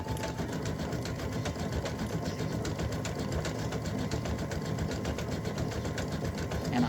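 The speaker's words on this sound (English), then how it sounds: "so we're stitching the red stripes" An in-the-hoop embroidery machine steadily stitches red stripes on a Valentine gnome mug rug panel, a fast, even mechanical whir with a rapid needle rhythm running loud and continuous throughout.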